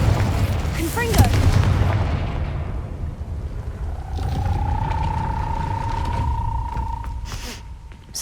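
A Confringo blasting spell from the Hogwarts Legacy video game erupts in a loud, close boom, followed by a rumbling decay. A steady tonal hum then rises and holds beneath the lingering game ambience.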